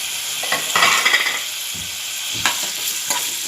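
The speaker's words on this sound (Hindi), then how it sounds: "अब मैंने फ्राई पैन गैस पर रखी हूँ, तेल गरम हो चुका है। अब मैं इसमें प्याज डालूँगी।" Onions hitting hot oil in a frying pan for baingan bharta, bursts of loud sizzling with scraping stirs and clinks of a utensil, close up.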